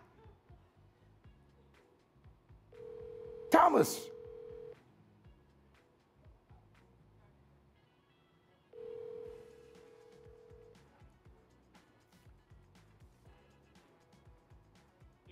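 A telephone call rings out through the handset, two long steady ringback tones separated by a pause, the first briefly overlapped by a voice shouting.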